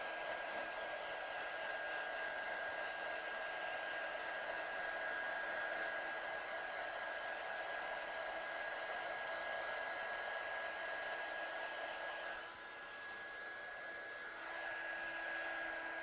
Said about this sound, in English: So let's heat set this one with our gun.